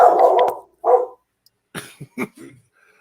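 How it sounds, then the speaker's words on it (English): A pet dog barks at home during fireworks, a long loud bark then a shorter one, followed by a few quick quieter yips with silence between, close to the microphone. "great time for my dog to start barking"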